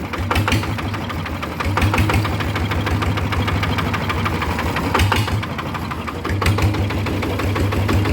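A modified Yanmar engine runs steadily at low revs, its close, loud, rhythmic knocking idle continuing throughout with slight swells in pace and no voices.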